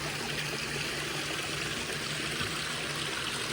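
Water spilling over a full check dam into a stream flows with a steady, continuous rush and trickle, heard close and alone with no voices, banks lined with bamboo and forest.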